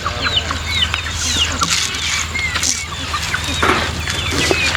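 Chickens of a Tamil Nadu country breed cluck and squawk repeatedly on a Karnataka poultry farm, with a steady low hum underneath and many overlapping bird calls throughout.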